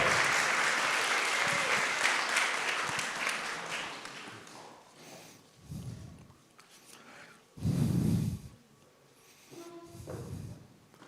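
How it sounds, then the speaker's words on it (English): Hackathon audience applause for a final presenting team, a fairly quiet burst of clapping that tapers over several seconds, followed by scattered bumps and handling noises. "Please clap your hands for our last group."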